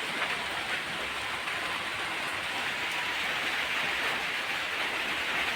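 Heavy rain falling outside, heard through a window as a steady, even hiss that holds at the same level throughout with no voices.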